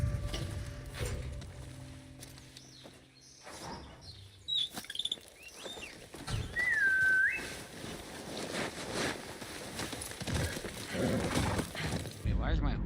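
A horse in the Ghost of Yotei video game, with sharp whistles and a brief neigh over clip-clopping movement and ambient game sounds, while a voice speaks over the scene.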